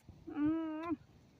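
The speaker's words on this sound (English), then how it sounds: "my little cat is saying hello" A pet cat gives one clear, drawn-out meow close by, fairly quiet, over a low background hush.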